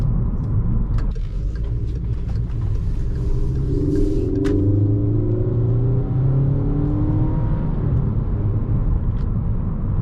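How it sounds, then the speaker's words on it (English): A 2016 Volkswagen Jetta SE with a cold air intake accelerates, its engine drone rising steadily in pitch over a constant road rumble, with no talking. "It's basically just a ton of engine noise with that cold air intake."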